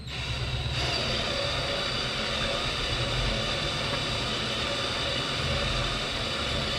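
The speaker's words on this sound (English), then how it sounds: "We're gonna turn our drill counterclockwise, because that's the way the distributor is gonna turn the oil pump." A drill turns the oil pump counterclockwise to prime the lifters of a Ford 289 V8 engine, giving a loud, steady, continuous whir close by with no talking.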